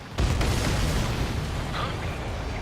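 A missile detonates in an Ace Combat 7 air battle, a sudden deep boom followed by a sustained rumbling roar that fades slowly without any voices.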